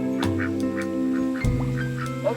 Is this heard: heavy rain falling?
no